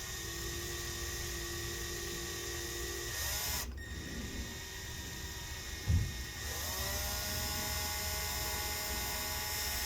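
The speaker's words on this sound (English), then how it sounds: "Looks like it's just shaving off the metal." A screw extractor drills into a stripped screw on a 13-inch Late 2018 A1932 laptop, giving a faint, steady high-pitched whine that briefly cuts out and then spins back up.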